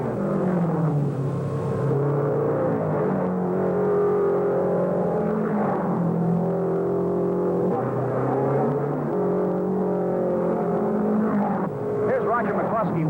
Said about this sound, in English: Warm-up laps have begun, giving the fans a taste of what is yet to come